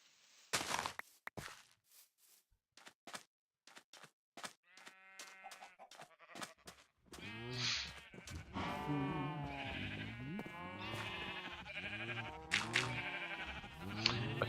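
Sheep bleat in a survival video game. Sparse clicks and short sounds come first, then a run of loud, close, repeated bleats overlapping one another through the second half.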